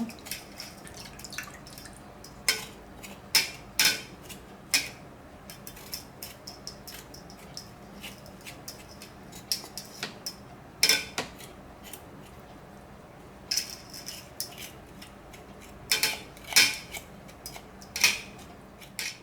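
A spoon scrapes the skin off fresh ginger in short, crisp scratching strokes, coming in irregular bursts with quiet pauses between them, close and fairly clear.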